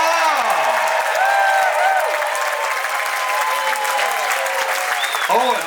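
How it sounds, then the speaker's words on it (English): Auction crowd applauding a final big bidder, steady dense clapping throughout with cheers and voices mixed in, loud and close. "Give yourself a round of applause."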